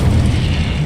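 Incendio fire spell in Hogwarts Legacy erupts as a loud, close, continuous roaring burst of flame, heavy in the low end and filling the whole brief moment.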